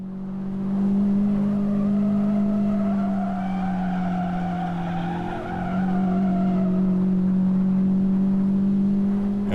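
A race car lapping Roebling Road holds a loud, steady onboard engine drone with a sustained tire squeal layered on top, briefly dipping mid-corner before resuming at full volume.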